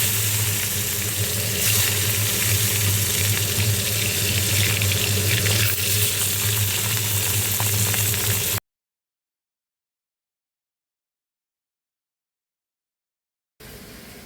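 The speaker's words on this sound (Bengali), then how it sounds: "বাকি মাছগুলো আমি এরকম করে ভেজে নেব সব কটা।" Fish sizzles in hot oil in a pan, a steady loud crackling fry that runs for about eight seconds, cuts to silence, then resumes briefly at the end.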